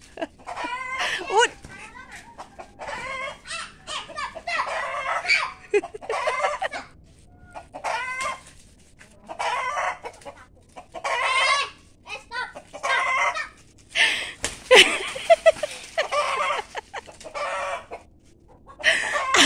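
Chickens clucking and squawking agitatedly as they fight, with a rooster crowing, lively and close, while people talk and laugh over the commotion.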